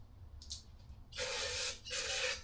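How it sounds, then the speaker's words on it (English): Carb cleaner sprayed into an in-tank fuel pump hanger to flush debris, two close hissing aerosol bursts, the second longer, after a few faint clicks. "I'm just going to hit this with carb cleaner."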